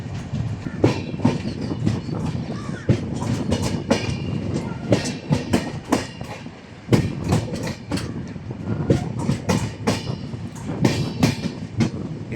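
Netravathi Express passenger train running between Mumbai and Thalassery, heard from on board with a steady rumble and repeated clickety-clack of wheels over rail joints, loud and continuous throughout.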